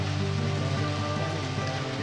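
Steady rain from Deadly Premonition hisses continuously outside a parking lot area, a dense even wash of falling water with a low droning hum beneath it.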